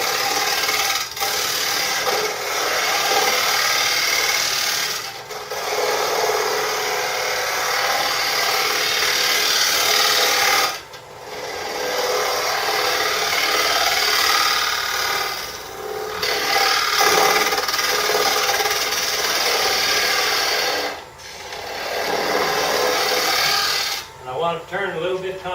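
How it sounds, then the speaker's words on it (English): A gouge scrapes the spinning wood as the lathe turns away the tenon on a small wooden bowl, a loud, continuous rasping hiss that dips into short pauses every few seconds. "I want to turn off part of this original tenon that I had"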